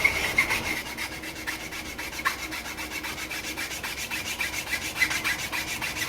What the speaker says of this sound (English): I'm going to get a file and keep it perfectly flat and rub it down.